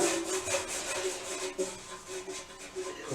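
A paintbrush scrubbing paint along the side of a radiator, a close, quiet, rhythmic bristly rubbing in quick back-and-forth strokes.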